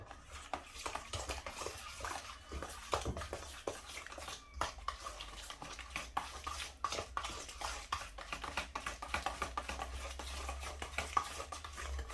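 A spoon stirs sugar, freshly ground black pepper and salt for BBQ coleslaw, making quiet, continuous gritty scraping and light ticking clicks at close range, with no talking.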